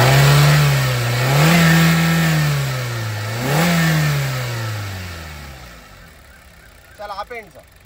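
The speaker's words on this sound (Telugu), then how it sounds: "సార్ ఒకసారి యాక్సిలేటర్ రా." A 2022 Maruti Suzuki Dzire VXi petrol engine revs up twice with the accelerator, rising and falling loudly before settling back to idle, with brief voices near the end.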